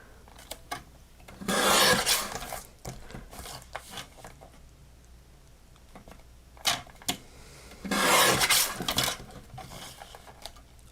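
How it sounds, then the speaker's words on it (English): Trimming the edge of a craft card, two bursts of close rasping cutting sound separated by quieter stretches of small clicks and handling noises. "I'm going to trim the whole thing just right inside of that red line, just to make it even all the way around"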